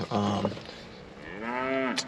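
Cattle, including a black white-faced cow and a Hereford, moo twice close by during a midday pasture herd check, first a short low call and then a longer rising one.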